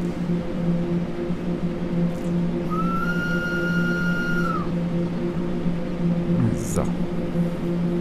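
A train whistle blows once in Train Sim World 4, a steady, clear tone that holds for about two seconds over a constant rumble of locomotive noise.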